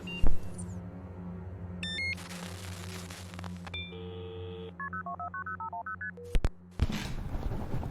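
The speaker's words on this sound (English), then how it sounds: "I need to call Sam" Telephone keypad dialing tones beep in a quick run of short pitched presses, preceded by other electronic beeps over a low steady hum, in an audio drama scene with no speech.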